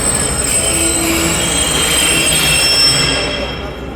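The Tezgam express rolls into Lahore Junction railway station with a loud, steady rumble of wheels and high metallic squealing from the rails, close and continuous before easing slightly at the end.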